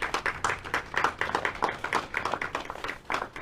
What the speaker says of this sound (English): let's give a round of applause for our housing team